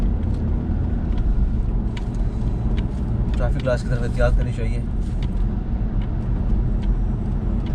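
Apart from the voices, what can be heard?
BMW 520d M Sport driving through roundabout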